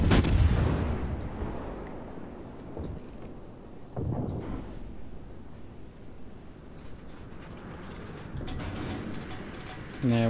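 Warship guns firing into smoke in World of Warships: a loud opening salvo, then a few more heavy shots spaced several seconds apart, with sharp cracks in between and a low rumbling backdrop.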